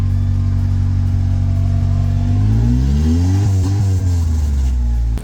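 A Honda K24 engine revs hard and loud, close by, its pitch sweeping upward and then dropping back as the throttle is released.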